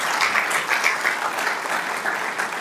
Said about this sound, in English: how about one more round of applause for all three of them?